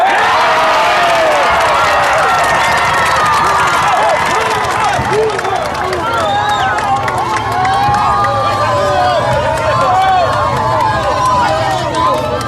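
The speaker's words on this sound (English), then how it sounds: "We joined the crowds watching him being sworn in." A large crowd in Paraguay at a presidential swearing-in and procession, loud and close, a dense roar of cheering, shouting and scattered clapping that continues without a break.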